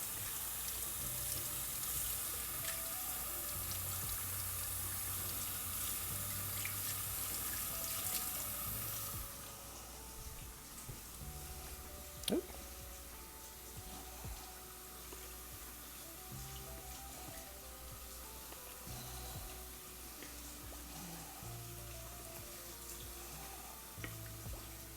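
Tap water runs steadily into a sink for a film-developing rinse, a constant close hiss that drops slightly in level partway through and carries on evenly with no talk.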